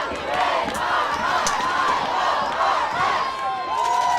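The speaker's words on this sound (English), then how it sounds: "Crowd getting into it here." Crowd at a high school soccer state final roars and chants in rising, wavering cheers, sustained and loud across the whole stretch with a few sharp shouts standing out.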